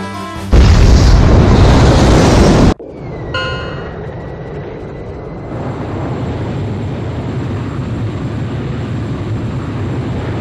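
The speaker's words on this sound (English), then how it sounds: "Mass driver hit by cruise missile." In Ace Combat 5, a cruise missile strikes a mass driver with a loud, wide blast that cuts off suddenly, followed by a lower rumbling roar and a faint steady hum.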